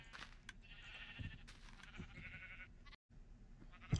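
Sheep bleating in Minecraft on a superflat survival wool farm, several short wavering bleats one after another against a quiet background, with a brief dropout near the end.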